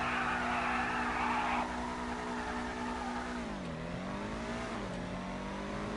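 Car tires skid and an engine revs in Grand Theft Auto V, a loud, continuous screech over a steady engine drone whose pitch dips and then climbs again, with no voices.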